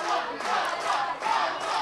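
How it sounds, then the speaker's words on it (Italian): Lazio and Capua football fans chant and roar together in a stadium during a 2014 memorial match, a continuous swelling crowd chorus with rising and falling surges. "Sale in mezzo l'incitamento prima dei tifosi della Lazio e poi anche da parte di quelli del Capua"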